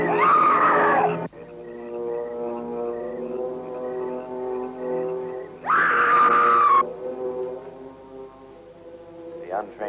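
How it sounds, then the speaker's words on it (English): Eerie drawn-out scream of a ghostly white woman in an old cemetery by a bell tower, two loud wailing bursts over a sustained low droning tone, near and piercing. "it is the scream of the white ghost."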